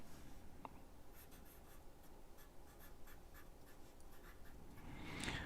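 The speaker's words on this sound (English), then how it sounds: "Going to go ahead and write his name on there." A pen writes a name on a coin roll wrapper, making soft, quick scratchy strokes in close, quiet succession, ending in a louder rub near the end.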